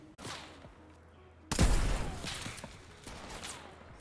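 Video game sniper fire during team play: a sharp, loud gunshot bursts out mid-clip and trails off, with fainter shots and game sounds around it and no talk.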